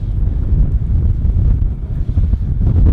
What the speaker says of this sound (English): But it's very windy. I don't know how well you can hear me.